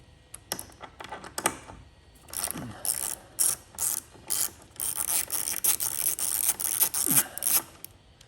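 Ratchet clicking in short repeated bursts as two 10mm bolts come out of the underside of an Indian motorcycle during a tour pack strut kit install, close and fairly quiet with pauses between runs.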